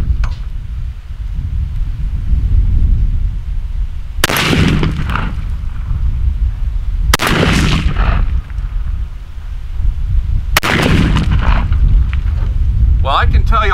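Three loud, sharp blasts from a shotgun fitted with a factory full turkey choke ring out a few seconds apart outdoors, each with a booming tail over steady low background rumble.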